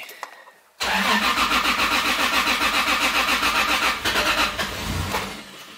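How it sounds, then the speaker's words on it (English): A Toyota Supra with a single-turbo 2JZ engine cold-starts on E85: a short crank after near silence, then the engine catches and settles into a loud, pulsing idle that dips and wavers toward the end. "But this thing does start E85 cold start pretty well."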